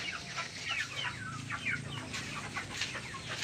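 Free-range chickens clucking nearby in a backyard pen, several birds making repeated short clucks and soft calls at a moderate, fairly quiet level with no talking.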